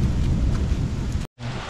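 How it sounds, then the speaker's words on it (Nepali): Steady drizzling rain falls outdoors on a hillside near Tareveer in Nepal, an even hiss close by that stops abruptly for a moment before resuming, with no voices. "यस्तो सिमसिम सिमसिम सिमसिम झरी परेको छ"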